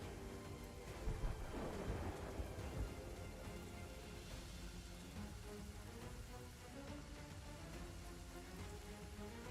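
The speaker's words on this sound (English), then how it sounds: "Calypso's lightning cracked the spire." Thunder from a lightning storm in Sea of Thieves: a deep rolling rumble that swells early and then fades into a steady hiss of rain, with no talking.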